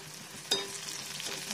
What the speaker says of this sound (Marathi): आता हे सगळं छान फ्राय होऊ द्यायचं